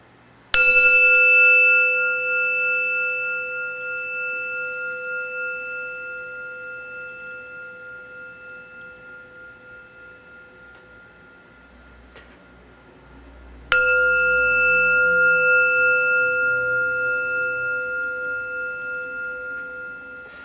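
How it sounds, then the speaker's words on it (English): A Japanese Buddhist altar bell, a rin on a cushion, is struck twice with its striker, each strike giving a clear, pure ring with bright overtones that sustains and fades slowly over many seconds, close and alone. "the bell rings quite nicely, and I think it looks quite nice on its cushion"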